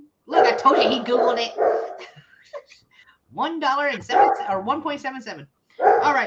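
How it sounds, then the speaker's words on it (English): A dog barks in the background of a live vintage sale, yips and bow-wows scattered behind near, loud conversation that dominates throughout. "Sorry if you can hear dog barking."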